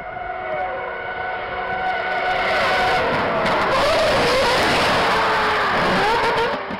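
A loud high-revving rotary-engine race car screams continuously at the 24 Hours of Le Mans, its pitch climbing and falling through gear changes as it passes close by.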